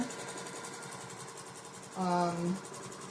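A sewing machine free-motion quilting on a mini quilt frame, a steady low mechanical hum running throughout, with a brief louder tonal burst midway and a voice talking over it.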